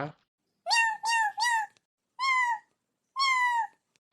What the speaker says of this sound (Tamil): பூனைங்களாம் கத்த ஆரம்பிச்சிருச்சு